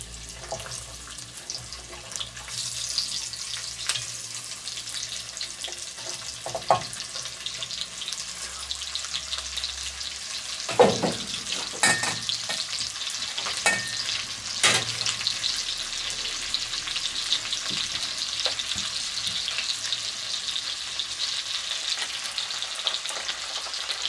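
Vegetables frying in a Dutch oven for a vegetable and meatball stew, a steady soft sizzle throughout with occasional clanks and stirring scrapes, moderately close with no talking.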